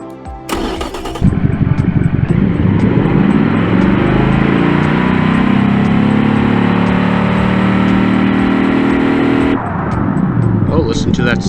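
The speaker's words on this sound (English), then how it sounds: "Nothing like a good V8 engine to really get your automotive juices flowing" A V8 muscle car engine in the BeamNG driving game cranks and fires after a short burst at the start, then settles into a loud, rumbling run that rises in pitch, cuts off near the end and idles on under a voice.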